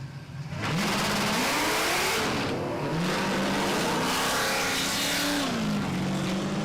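A drag race car with a custom exhaust on Kenda 660 radial tires accelerates hard at a testing and shootout event, its loud engine rising and falling through several rev sweeps over a sustained roar.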